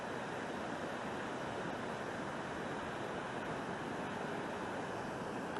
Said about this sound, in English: Nice little waves for surfing.